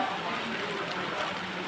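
Rain falls steadily in a soft, even hiss with no other distinct sounds, faint and continuous throughout.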